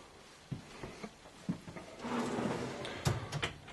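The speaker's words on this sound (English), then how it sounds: "Roller bearing glide drawers," Roller bearing glide drawers on Amish handcrafted solid wood cabinetry in a 2013 Heartland Bighorn 3670RL RV slide and bump, with several sharp knocks, a smooth rolling glide and a final thud, close and fairly quiet.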